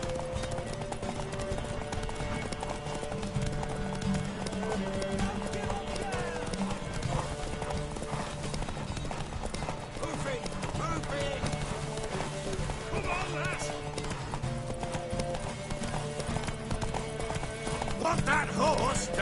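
Hooves clatter steadily and a horse whinnies now and then, set in a dense, busy mix with music-like tones and voices talking over much of it, fairly close and loud throughout.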